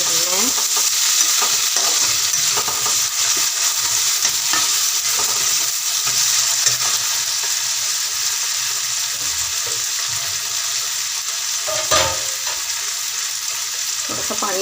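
Long sliced green chillies roast in a hot pan, giving a loud, steady sizzle with occasional stirring scrapes and no talking.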